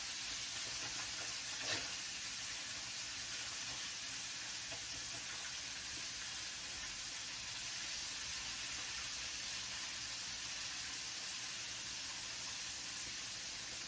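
Constant crackling sizzle of chicken frying in hot grease, steady and even throughout with no talking.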